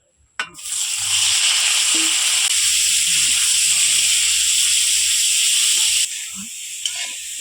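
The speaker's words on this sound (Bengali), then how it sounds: "এবার ভাপানো ফুলকপিগুলোও ভেজে নেব" Steamed cauliflower dropped into hot oil, bursting into a loud, close, steady hissing sizzle that holds and eases slightly near the end.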